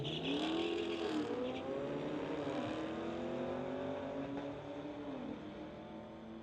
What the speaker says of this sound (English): Royce in his 2016 Camaro in the Lordco lane, going against the Dodge in the TCS lane